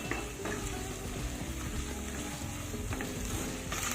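Ginger-garlic paste fries in a pan with a steady close sizzle and occasional faint clicks.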